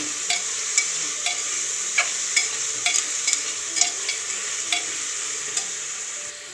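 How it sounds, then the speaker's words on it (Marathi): A sliced tomato frying in a pan for Marathi-style masala rice, with a continuous bright sizzle and regular spatula scrapes and taps at close range, with no talking. "आता यामध्ये हा 1 टोमॅटो उभा चिरून घेतलेला आहे, टाकून घेऊ। आणि थोडंसं परतून घेऊ।"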